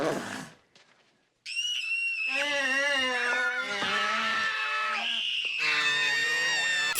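Shrill screams from the 1982 film E.T. ring out loud and overlapping after a brief near-silent pause, held high and wavering for several seconds.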